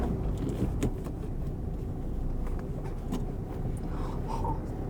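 A car engine hums steadily and quietly from inside a learner's car during a driving lesson after a shift into second gear, with a low, even drone and faint cabin rattles and no talk.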